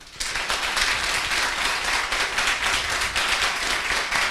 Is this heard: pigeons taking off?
no